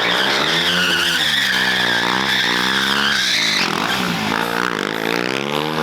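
A BMW motorcycle at a stunt show pivots on its front tire, its engine revving high and steady while the tire skids and squeals continuously, loud and close throughout.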